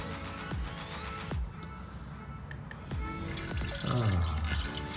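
Coolant being poured into the replacement Mishimoto coolant tank of a Mustang GT, a steady liquid trickle and splashing with a few sharp knocks and a rising gurgle of the tank filling near the end.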